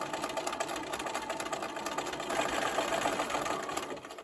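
A sewing machine runs steadily, stitching pairs of fabric triangle units for a star quilt block, a continuous close mechanical whir that swells slightly louder midway before stopping.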